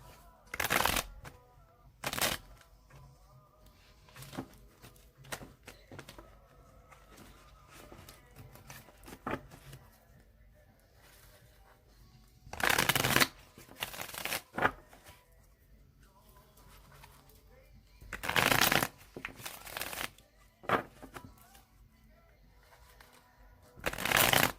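Tarot cards are shuffled in several separate bursts, each a few seconds long, with quieter pauses and faint background sound between them.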